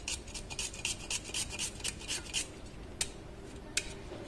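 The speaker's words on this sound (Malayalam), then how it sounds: "ചെറിയ സവോള നമുക്ക് എടുത്തിട്ട് ചെറുതായിട്ട് അരിഞ്ഞിട്ട് കൊടുക്കാം" Knife slicing two small onions thinly on a board, a quick, even run of crisp rasping cuts up close, then two lone slices after a pause, with no voices.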